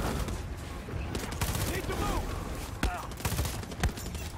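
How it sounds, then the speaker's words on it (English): Shotgun blasts and other gunfire in the video game Far Cry 6, several loud sharp shots over a dense, busy game soundscape, with a voice talking at times. "Are you missing with a shotgun at point blank range?"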